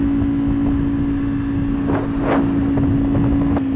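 Ducati Panigale V4R motorcycle cruising in sixth gear, a steady engine drone buried under heavy rushing wind noise at the rider's helmet, continuous and loud with no speech.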